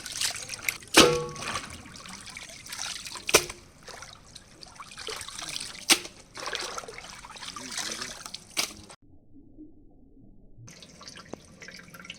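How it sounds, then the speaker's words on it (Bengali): Marinade is poured over chicken meat with a steady trickling, dribbling liquid sound punctuated by a few sharp taps, close and fairly quiet, ending in a brief pause then soft splashing. "এই যে মাংস ম্যারিনেটের জন্য আমরা এখন ঢেলে দিচ্ছি"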